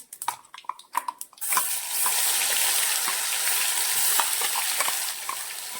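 Thick onion, tomato and coriander paste hits hot oil and erupts into loud, steady sizzling and spattering after a few clinks and stirs, continuing without pause.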